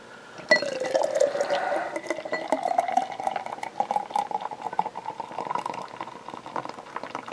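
Left Hand Belgian White Nitro beer is poured into a glass, a close fizzing, bubbling stream with steady cascading foam that carries on throughout without talk.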